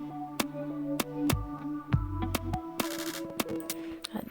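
A pump pad synth with phaser and reverb in a Soundtrap beat, a sustained pad that swells and pumps under sharp, evenly spaced percussive clicks and deep bass thumps, with no voices.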